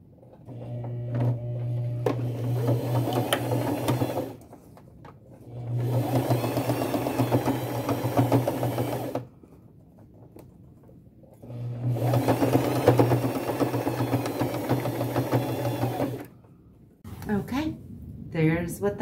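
A sewing machine stitches denim in three long, steady whirring runs, each lasting several seconds with short pauses between them, and a voice is heard near the end.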